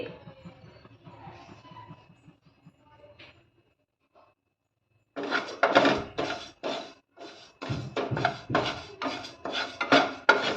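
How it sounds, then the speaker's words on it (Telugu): A quarter cup of moong dal is roasted in a pan for a prasadam sweet. After a quiet stretch, a spoon scrapes and rattles the dry lentils in loud, rhythmic bursts against the metal. "పావు కప్పు పెసరపప్పును తీసుకొని ఈ విధంగా దోరగా ఫ్రై చేస్తున్నాను"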